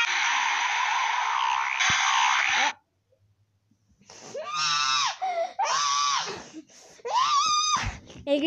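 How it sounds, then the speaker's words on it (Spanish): Loud dinosaur scream from a dilophosaurus versus anchiceratops fight animation, a long sustained shriek then, after a brief gap, a series of harsh warbling screeches and roars close to the microphone. "El grito de Carvel, el grito de Godzilla"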